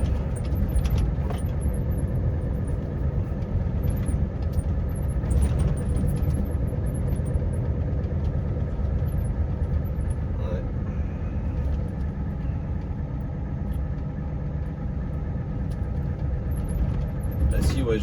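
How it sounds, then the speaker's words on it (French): A truck's V8 engine idles with a steady low rumble throughout, while someone talks over it for most of the time. "le V8 il ronronne ce matin"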